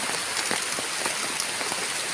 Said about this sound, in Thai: ตกฝนก่อนครับ